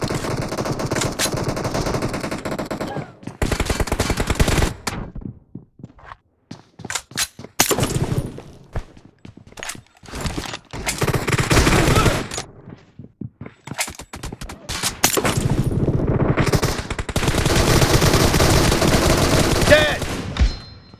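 Loud, close machine gun fire in long sustained bursts and short rapid volleys, separated by brief silent gaps.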